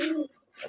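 A newly paired Nildumba and Kamagar pigeon coo close by in one short, throaty call that stops abruptly, then a softer rising note.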